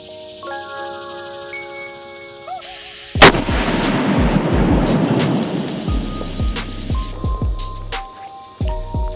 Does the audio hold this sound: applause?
no